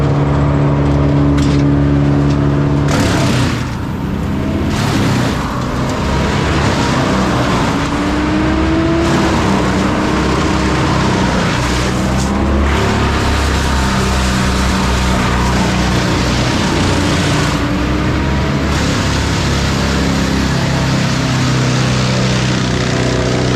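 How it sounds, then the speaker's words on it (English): A big wood chipper devours a whole tree, its engine roaring loud and steady throughout with surging, grinding load as branches feed through, close and continuous with no voices. "with this big chipper, we'll just chip the whole tree."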